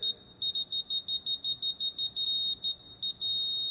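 A laser level receiver beeping in a fast, steady string of short high-pitched tones, briefly breaking into quicker double beeps before settling into a longer sustained tone, loud and close with no voices.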